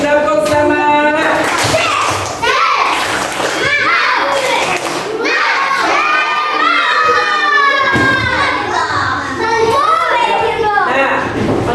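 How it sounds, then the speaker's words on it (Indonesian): Schoolchildren in a combined third- and fourth-grade class loudly chanting the rhythmic 'tepuk semangat' clapping chant together, a dense chorus of young voices with claps mixed in, close and continuous. "yuk tepuk semangat dulu. Tepuk semangat."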